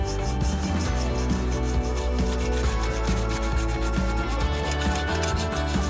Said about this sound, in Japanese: 軽くペーパー当てる程度